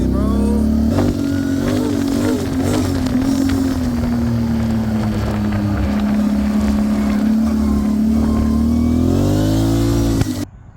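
A motorcycle fitted with an RJWC aftermarket exhaust and tune revs hard and accelerates up close, its loud engine note rising and dipping steadily before cutting off abruptly at the end.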